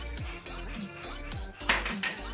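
A cheesecake batter of cream and lemon zest is whisked in a bowl, with rhythmic metallic clinks and scrapes of the whisk against the bowl, loud and close.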